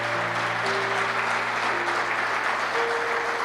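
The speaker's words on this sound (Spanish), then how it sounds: "Dale fuerte, fuerte, fuerte el aplauso al Señor." Church congregation applauding during a sermon, a steady, dense clapping with sustained organ or keyboard tones held underneath, moderately loud and continuous throughout.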